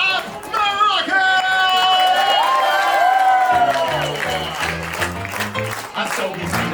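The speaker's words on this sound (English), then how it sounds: "Let's have a round of applause for Princess Rapunzel." Crowd at the Tangled stage show in Disneyland's Fantasy Faire applauds and cheers for Princess Rapunzel, clapping and whoops rising under swelling orchestral music that continues throughout.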